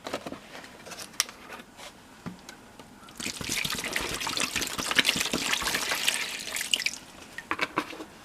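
Water pours into a jug, a trickling, splashing stream that swells into a steady fill for several seconds, framed by scattered clinks and drips before and after.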